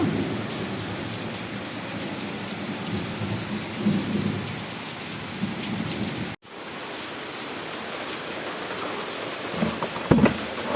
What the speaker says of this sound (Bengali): দেখো আবার বৃষ্টি নেমে গেছে বৃষ্টি পড়ছে